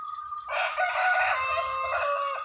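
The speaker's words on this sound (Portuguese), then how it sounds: "O peru ali tá gritando." A turkey on a farm gobbles loudly and continuously, a harsh rising call sustained for about two seconds over faint low background noise.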